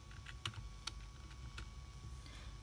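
Keystrokes on a computer keyboard while entering terminal commands on a Raspberry Pi 4 running Kubuntu, a few sparse, separate clicks over a steady low hum.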